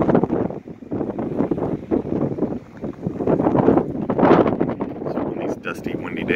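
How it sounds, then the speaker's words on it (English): Strong gusty wind on a dusty desert day in Quartzsite, Arizona roars and buffets close against the microphone, swelling and easing while a person talks over it. "Dusty, windy days, that's just more dust kicking up. It's really blowing hard now."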